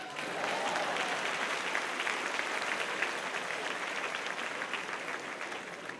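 A church congregation at a live worship service applauds steadily, a dense, even wash of clapping that holds for the whole stretch at moderate volume.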